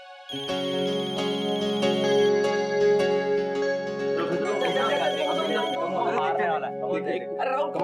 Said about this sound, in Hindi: शायद तेरा फोन आया।